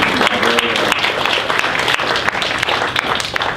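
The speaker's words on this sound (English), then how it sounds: "Give them a nice round of applause" Dense, continuous applause from a sizable lecture audience, loud and close, with many hands clapping at once.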